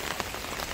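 Steady rain patters on surfaces outdoors on a cold day among flowers, a dense continuous hiss with no voices.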